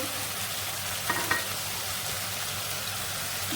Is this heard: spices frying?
yes